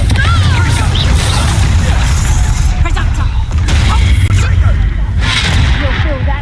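A Confringo fire spell blasts in a Hogwarts Legacy magic duel, a loud sustained rumble with heavy crashing impacts and bursts throughout, overlaid by spoken voices.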